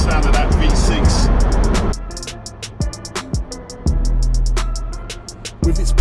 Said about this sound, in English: Love the sound of that V6.